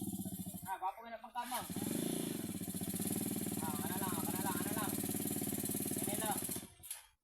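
A motorcycle engine revs and sputters while its clutch is worked. After choppy bursts at the start, it settles into a loud, sustained roar with wavering pitch, then cuts off abruptly near the end. Voices are heard over it.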